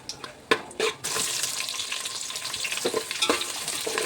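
Onions sizzle steadily in a pan with cloves, cinnamon, star anise, cardamom and bay leaf for chicken pulao. A few clattering stirs come first, then a continuous close frying hiss with no voices.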